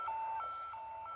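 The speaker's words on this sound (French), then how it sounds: "l'alarme a sonné" An electronic alarm in the video game Hitman beeps in alternating high and low tones, a clear repeating two-note pattern over a faint background hiss.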